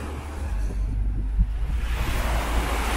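Surf and wind roll steadily on the white sand of Spennah Beach in Entebbe, Uganda, making a constant broadband rush with low wind buffeting on the microphone and no voices.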